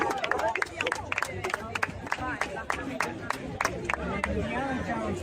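An audience claps for Amber Heard: a thin, scattered round of applause from a small crowd, with murmuring voices underneath.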